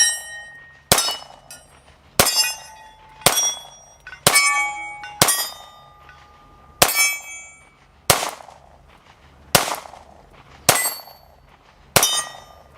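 Roughly ten sharp, loud shots from a Springfield Armory Hellcat Pro Comp 9mm pistol, a compensated handgun with an optical sight, fired one at a time at uneven one-second gaps, each with a short ringing tail and no voices.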